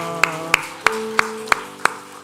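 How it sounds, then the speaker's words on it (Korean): A small church congregation claps during a Sunday worship service, six sharp separate claps at a slow, even rhythm, faint over a low sustained tone. "박수로 격려하겠습니다"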